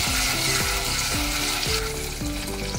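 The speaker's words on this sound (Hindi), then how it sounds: "इसमें मैंने ये 4 चम्मच भर कर मैं हरा मसाला वो डाल दूँगी, इसको थोड़ा सा भूनेंगे" Green masala fries in hot oil in a pan, with a loud, continuous crackling sizzle throughout. Faint tonal music plays underneath and no one speaks.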